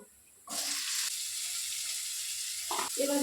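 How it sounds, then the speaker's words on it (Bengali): Oil bursts into a loud, steady sizzle as chopped onion and chili hit the pan, frying continuously with brief utensil scrapes near the end. "পেঁয়াজ কুচি আর লঙ্কা কুচি এটা তেলে দিয়ে দেবো"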